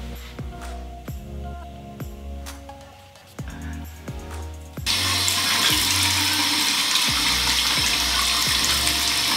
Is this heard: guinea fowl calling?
no